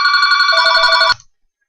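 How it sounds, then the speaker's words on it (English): A telephone bell rings in one sustained electronic trill, loud and close, with rapid pulsing, then cuts off abruptly and leaves silence. "Excuse that phone interruption."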